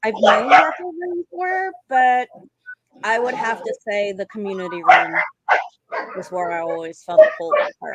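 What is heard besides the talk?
dog barking in the background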